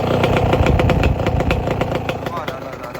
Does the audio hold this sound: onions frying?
no